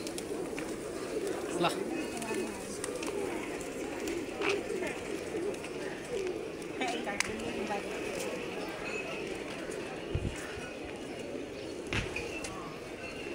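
Pigeons coo in a low, steady murmur close by, with occasional wing flutters and light knocks, while someone talks over them throughout.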